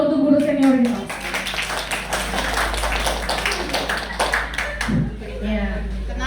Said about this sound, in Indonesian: beri tepuk tangan dulu untuk guru senior kita